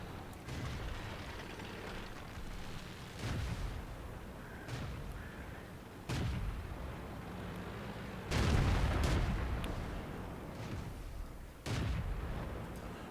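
Repeated heavy booms with rumbling low end, spaced several seconds apart, tank gun blasts in World of Tanks, with continuous noise between shots.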